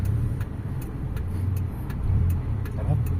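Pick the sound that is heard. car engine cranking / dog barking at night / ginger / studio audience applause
car engine cranking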